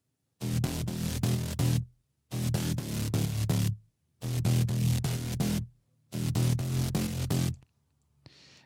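Deep synth bass with sidechain ducking from a shaper plugin at 45% mix plays four rhythmic phrases, each swelling and ducking in a pumping pattern, separated by short gaps of silence.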